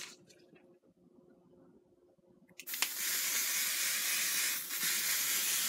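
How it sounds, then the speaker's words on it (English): Ion light flexible hold hairspray from an aerosol can hisses onto a wig in one steady, close spray lasting about three seconds, following a quieter stretch of soft handling noise. "Let me spray it and then fix it."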